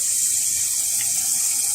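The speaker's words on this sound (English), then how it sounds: "Cold water, we always start out with cold water." Cold tap water pours steadily into a pot of chicken bones for making stock, a continuous close, even rushing splash with no voices over it.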